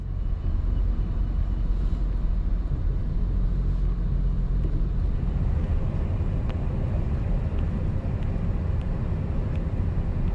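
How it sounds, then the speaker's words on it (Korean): A return shuttle bus ride on the road to Jamsil Station, with a loud, steady engine and road rumble that never lets up, plus faint rattles inside the cabin. "정각 오후 5시에 복귀 셔틀버스를 탔습니다."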